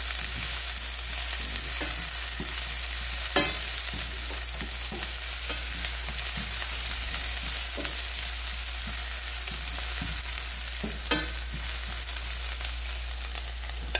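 Chicken lady fingers fry in a hot pan, giving a steady, close sizzle with scattered pops and crackles throughout and no talking.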